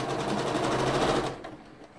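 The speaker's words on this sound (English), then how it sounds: "put those face to face, put it on your sewing machine." A sewing machine runs fast on a quilt block of fabric pieces face to face, a loud close steady whirring burst of stitching that stops abruptly after about a second and a half.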